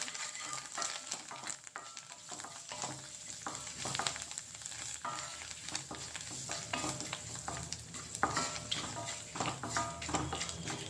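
Oil tempering for drumstick leaves dal sizzles and crackles steadily in a pan, with a continuous frying hiss and small pops throughout.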